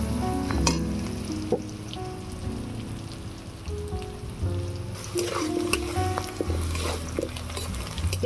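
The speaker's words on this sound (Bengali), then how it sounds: "জিরা, কাঁচা লঙ্কা, পেঁয়াজ রসুনটাকে লাল করে ভেজে নেব" Cumin, green chili, onion and garlic frying in a pan for a shrimp and eggplant dish, with a steady loud crackling sizzle and repeated scraping and clinking of a spoon as the mixture is stirred.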